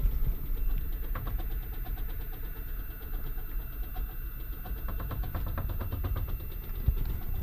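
Cabinets in a moving cruise ship cabin on the Carnival Miracle shake and creak over a constant low engine-like rumble, with fine rapid rattling ticks recurring throughout and a faint knock near the end.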